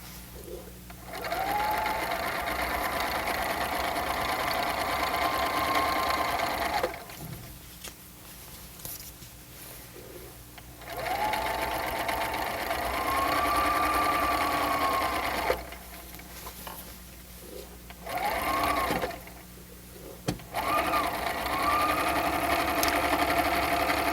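A sewing machine runs in steady bursts while stitching a coat lining, with several stretches of continuous whirring separated by pauses where it stops, close and moderately loud.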